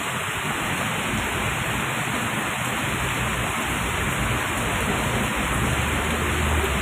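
Heavy rain pours down steadily in a dense, unbroken roar that stays loud and close for the whole stretch, with no voices over it.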